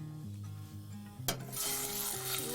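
Loud, steady sizzling of a whole fish dropped into hot oil, a sharp burst of crackling that settles into continuous frying with faint background music underneath.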